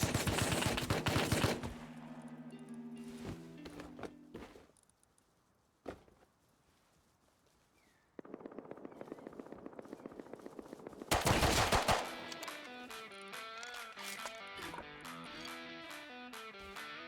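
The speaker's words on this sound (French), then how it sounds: "Il y a sûrement une tourelle qui tire" An automated turret in the Rust video game fires rapid bursts of loud gunfire, with sharp volleys at the start, a quieter staccato run in the middle, and a heavy distorted barrage toward the end.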